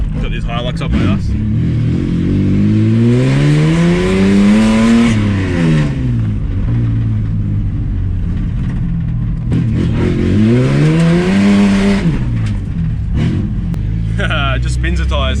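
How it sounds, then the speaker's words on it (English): A Ford AU Falcon drift car spins its tyres, its engine revving up and down in two long loud rising sweeps with a rough exhaust roar, while people talk close by. "Just spins the tyres."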